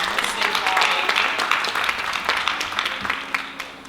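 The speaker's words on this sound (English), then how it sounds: "So please give a clap for Ron." An audience applauds a State Farm insurance agent named Ron at a local event in Bowie, a dense patter of claps that builds briefly and then thins out as a voice begins speaking over it.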